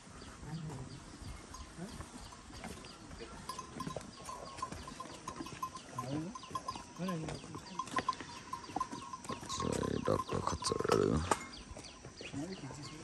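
Horses and mules on a mountain trail near Ghandruk, Nepal, heard as scattered animal noises and a faint steady ringing tone amid outdoor ambience, with a louder burst near the end while people talk.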